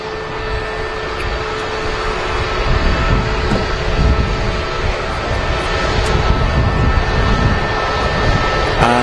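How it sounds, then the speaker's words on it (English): A TAP Air Portugal Airbus A320neo taxis out at Manchester Airport, its engines a steady loud rumble and hum that swells slightly over the stretch, heard without any talking. "a TAP Air Portugal A320 Neo on the taxi out"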